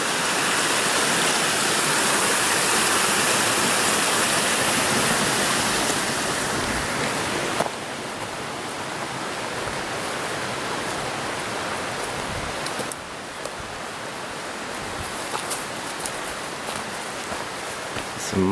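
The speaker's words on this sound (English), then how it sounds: "These are some cool little streams." Small mountain streams run beside a hiking trail in Washington's Pacific Crest Trail Section J, a steady close rush of flowing water that stays loud and broadband throughout, easing slightly in level partway through, with no talk over it.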